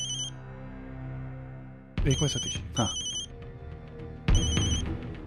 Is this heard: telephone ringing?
yes